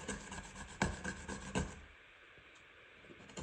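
A scraper drawn across wood on a gunsmithing bench gives a few rough, rasping strokes up close, two sharper scrapes standing out before the sound thins to a quiet, hissy stillness.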